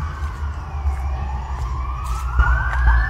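A police car siren wails steadily, its rising tone sweeping upward through the clip over a loud, low traffic rumble, with no one speaking.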